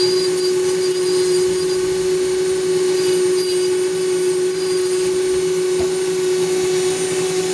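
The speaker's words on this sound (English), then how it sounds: "get rid of the cutter and put the grinder on, get rid of the rough edges" An angle grinder runs continuously to smooth rough metal edges during a custom car build, a loud, steady high whine with a strong sustained tone and grinding hiss throughout.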